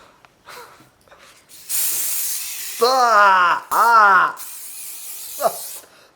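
Several loud hissing bursts from an aerosol can of spray-on hair spray up close, with breathy, laughing voices between and after the sprays.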